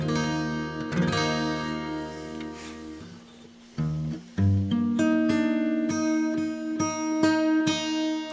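Acoustic guitar in DADGAD tuning ringing open, droning chords with a partial capo, strummed and let ring, then a few plucked notes and sustained harmonics.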